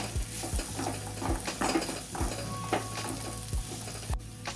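Bitter gourd and onion curry dusted with red chili powder is stirred in a pan, a spoon scraping and clinking in a steady rhythm over a soft sizzle, close and fairly loud with no voices.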